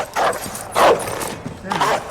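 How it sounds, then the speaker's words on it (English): A dog barking inside the video game Call of Duty Modern Warfare, three short, loud barks spaced about a second apart, mixed with game sound and a voice speaking. "Doggy ഒക്കെ ഉണ്ടല്ലോ ഇവിടെ. Hi, doggy."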